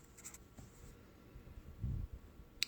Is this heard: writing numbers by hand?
yes